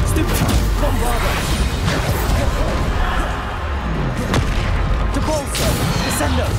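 Bombarda spell blasts in the Hogwarts Legacy video game, heavy booming impacts and crashes layered in a dense, continuous barrage of combat effects with a voice talking over the action.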